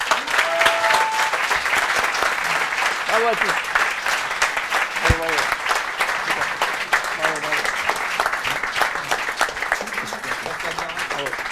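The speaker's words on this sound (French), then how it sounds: "Je vous demande d'applaudir notre parrain" Studio audience applauding loudly and steadily throughout a French TV talent show, with a host speaking over the clapping and a few cheers.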